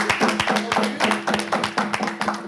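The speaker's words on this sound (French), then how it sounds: "Sans jalousie, applaudissez." Studio audience applauding on a French television show, a dense run of hand claps at a steady level with a faint voice underneath.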